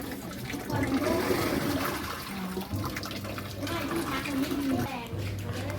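Water rushes steadily into a Samsung top-load washing machine that keeps filling as soon as it is powered on and won't shut off, a continuous close gush with someone talking over it.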